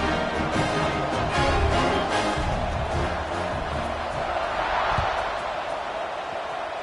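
A football stadium crowd roars during a kickoff after a scoring drive, a broad, steady wash of cheering voices that rises and falls slightly throughout.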